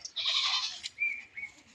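A nanny goat gives a close, clear bleat, followed by two shorter, fainter cries.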